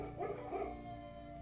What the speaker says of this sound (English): Dude, the dogs are barking.